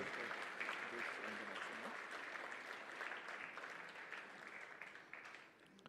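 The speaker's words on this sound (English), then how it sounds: "give a big round of applause to Merck Foundation for the anniversary" A large audience applauds at a Merck Foundation anniversary event, producing dense, sustained clapping that stays steady and fairly loud before easing off slightly at the end.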